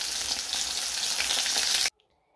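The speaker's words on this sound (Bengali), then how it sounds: "মাছটা ভাজা হচ্ছে" Fish fries in a pan with oil, a loud steady crackling sizzle that cuts off abruptly near the end into near silence.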